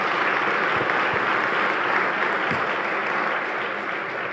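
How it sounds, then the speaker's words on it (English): Audience applause at a city's State of the City address in Jersey City, a steady dense wash of clapping filling the hall throughout, loud and sustained with no voices over it. "Good clap at that."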